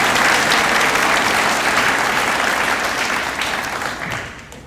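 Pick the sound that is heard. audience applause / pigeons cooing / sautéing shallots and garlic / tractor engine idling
audience applause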